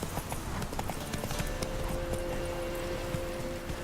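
Horse hooves galloping in The Witcher 3, a fast continuous clip-clop rhythm at close range over outdoor ambience, with a faint steady tone underneath.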